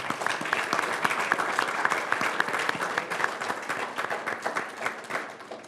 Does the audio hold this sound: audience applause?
yes